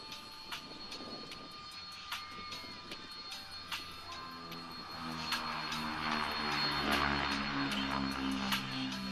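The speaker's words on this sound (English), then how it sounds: "Big three-bladed props producing those interesting vortices as the aircraft took off." Large aircraft with big three-bladed propellers taking off, a broad engine roar that swells and grows louder toward the end, with steady tonal hum and banded harmonics rising beneath it.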